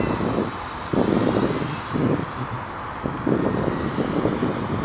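Electric RC model aircraft performing a Harrier-style hover transition, its propeller and motor buzzing steadily nearby in pulsing surges as the throttle changes, with wind noise on the microphone.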